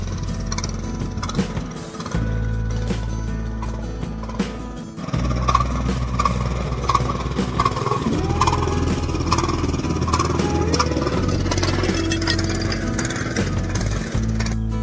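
A tractor engine runs steadily as the tractor is forced along a rough hill track toward terraced farm fields. The mid-pitched mechanical drone is loud and close and continues throughout, changing slightly in load partway through.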